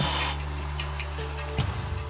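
Electric pipe snake drilling into a blocked well outlet pipe, a steady low motor hum with a sustained tonal drone that cuts off abruptly near the end, leaving scraping noise.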